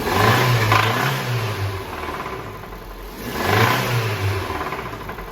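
A car with a 1.6-litre Z16 XR engine revs while stationary. It gives two loud surges, one at the start and one near the end, with the idle easing down in between. The sound is close and has no talk over it.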